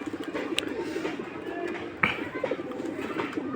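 A flock of some sixty pigeons, males and females together, coos steadily in low repeated warbles just after being let loose following a bath, with a few sharper flutters and chirps mixed in.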